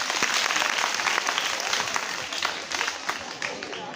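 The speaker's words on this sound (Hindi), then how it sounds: "एक बार पपीता ताली बजाइए, ताली।" A school audience claps together in a dense, steady burst of hand claps that holds at an even loudness and fades slightly toward the end.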